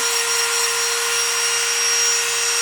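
A rotary nail grinder trims a dog's nails at home, a steady high-pitched motor whine that hums on close and unbroken for a few seconds.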